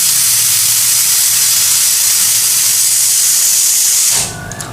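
Pressure cooker releasing a loud, continuous hissing jet of steam while cooking dal, lasting about four seconds before cutting off abruptly.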